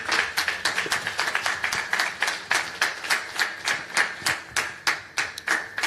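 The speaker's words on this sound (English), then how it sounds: "Can you please clap your hands?" An audience at a Lagos social media conference claps in a steady, rhythmic unison beat, sharp regular hand claps repeating for several seconds, fairly close and clear with no talk over them.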